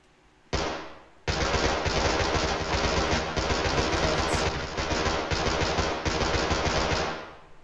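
Sustained automatic rifle fire in the tactical shooter Ready or Not, a short burst followed by a long continuous loud volley that fades out at the end.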